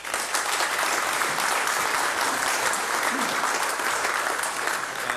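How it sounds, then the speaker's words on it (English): Steady applause from an audience filling a city council chamber, sustained and even for several seconds, with no talk over it. "this applause is for you and your congregation's willingness to help"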